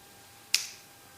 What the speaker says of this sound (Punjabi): ਮੈਂ ਚੁਟਕੀ ਵਜਾਵਾਂਗਾ ਤੇ ਤੁਸੀਂ ਖੋਲ ਲੋਗੇ